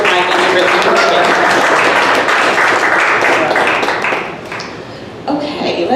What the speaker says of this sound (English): Let's give a round of applause for Michael.